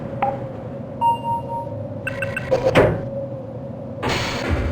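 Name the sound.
door opening in video game Sven-Coop Blue-Shift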